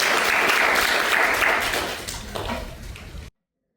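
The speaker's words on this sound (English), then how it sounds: "Let's give John a big round of applause today" A room's audience gives loud, dense applause from start to finish, the clapping steady and close before thinning slightly and cutting off abruptly.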